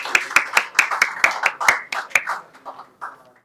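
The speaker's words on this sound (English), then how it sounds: "we should clap for you" A small group at a San Diego Python monthly meetup claps for a speaker, with about a dozen close, sharp claps in quick rhythm that thin out and fade near the end, with faint voices following.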